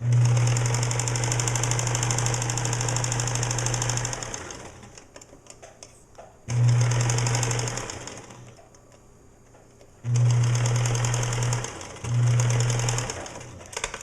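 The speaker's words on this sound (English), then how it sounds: "I've sewn the two pieces of fabric together on the two outer edges of the triangle." A sewing machine stitches a fabric seam with a 1/4 inch seam allowance in three loud, steady runs, separated by short pauses, with no talking.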